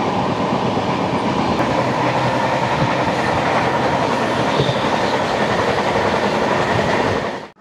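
A night train from Kolkata to Puri running at speed, heard from inside a carriage as a loud, continuous rumble and rattle of wheels on track that stays steady throughout, with no voices.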